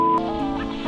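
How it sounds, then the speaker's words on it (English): A gray duck honks close by in the Canadian Arctic wilderness, a single raspy, nasal call stretched for under a second while feeding on moose fat. "A few gray ducks had already targeted the moose fat, and while Lake was distracted"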